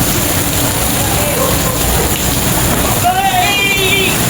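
Steady hiss of rain fills the background, with a brief voice calling out near the end over the constant patter.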